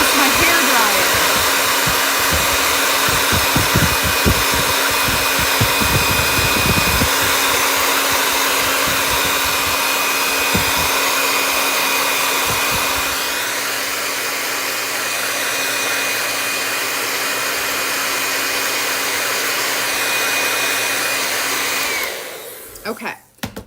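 Hair dryer on a high setting used to speed drying while making a bamboo charcuterie board, running as a loud steady whoosh with a constant motor hum for over twenty seconds before cutting off.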